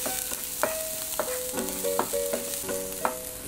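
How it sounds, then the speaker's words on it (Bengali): Chopped ginger sautéing in a pan, a continuous sizzle under a rhythmic series of tinny spatula taps and scrapes against the metal, close and steady, with no voices. "এগুলো একটু সটে করে একটু ব্রাউনিশ হবে"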